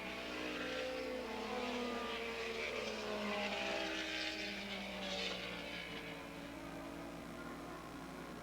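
Racing motorcycle on the back straightaway at Willow Springs Raceway during a 1987 Open Super Street race, heard from a distance as a faint engine drone with rising and falling whine that swells briefly midway.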